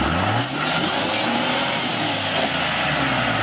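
A 4x4 off-road vehicle's engine revs hard and steady at Rausch Creek ORV Park as the driver tries to lift the front end into a wheelie, a loud, sustained roar with a rising pitch sweep near the start.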